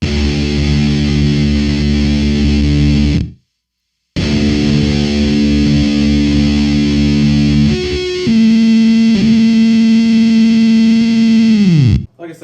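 Loud distorted fuzz guitar through a Fuzz Imp Creature pedal with its gate loosened sustains with a buzzing, noisy edge, cuts briefly to silence, then returns with ringing notes that decay into hiss and a sudden stop.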